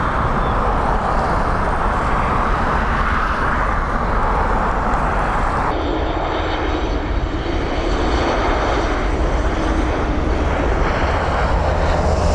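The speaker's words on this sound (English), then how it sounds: "Boeing 737 Max 8200 with Ryanair, arriving all the way from Seattle, coming in from the factory." A brand new Ryanair Boeing 737 MAX 8200 arrives at Dublin on its delivery flight from Seattle, its jet engines roaring loud and steady throughout, with the tone shifting partway as the aircraft passes close by.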